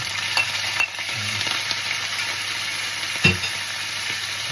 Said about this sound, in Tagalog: Ilagay na natin yung octopus natin na pinakuluan.